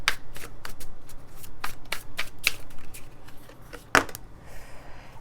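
Tarot cards shuffled by hand before a draw, a quick series of crisp riffling snaps and flicks with one sharp louder slap near the end, close and fairly quiet with no talk.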